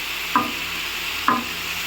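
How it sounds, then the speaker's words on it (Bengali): Pointed gourd (potol) being turned in a frying pan, a steady sizzle of hot oil broken by two distinct scraping knocks of the spatula about a second apart. "সবগুলো পটল দিয়ে মিশিয়ে দিব।"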